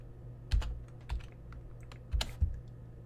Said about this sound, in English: I'm typing in this Imgur link real quick.